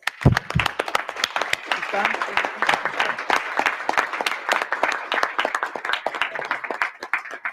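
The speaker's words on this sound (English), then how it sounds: "Can you give her a round of applause, please?" An audience at an OAS session applauds, with sharp, distinct claps forming a moderately loud, steady round that continues for several seconds.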